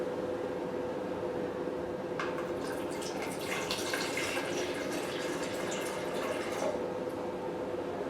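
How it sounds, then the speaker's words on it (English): Pure water poured into the tank of a vertical 808 nm diode laser hair removal machine, a soft trickle and splash rising after a quiet start over low background hum, then easing off. "okay, now we inject the water. This water is the pure water."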